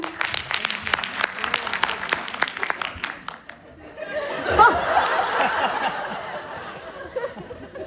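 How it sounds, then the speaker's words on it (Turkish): Audience at a comedy show claps in sharp, distinct strokes for about four seconds, then the clapping gives way to a softer swell of crowd laughter and murmuring. "benim gösterime gelenler alkışlayabilir mi?"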